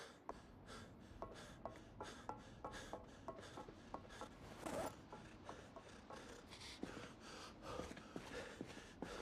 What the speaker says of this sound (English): This guy's panting like a steam engine.